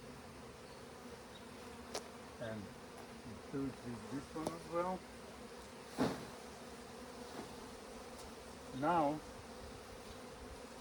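A swarm of honeybees hums steadily as they are shaken off a hive frame, with occasional thumps and a voice speaking briefly over the buzzing.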